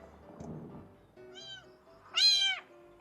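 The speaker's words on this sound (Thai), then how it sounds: "ทดสอบตรวจจับเสียงแมวร้อง" Two cat meows, the second louder and higher-pitched, each standing out clearly over a quiet, low background hum, played as a sound detection test for a TP-Link Tapo C246D security camera.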